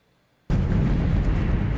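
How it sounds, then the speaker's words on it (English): An explosion from a TV show: silence, then an abrupt loud broadband blast that continues as a dense roaring rumble. "Ooh, explosion."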